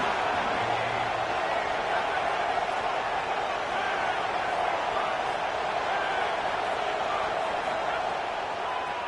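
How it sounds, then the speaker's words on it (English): Football stadium crowd at a college game between Alabama and Georgia, a dense continuous roar filling the whole stretch at high, steady loudness. "This crowd ready to make its presence known."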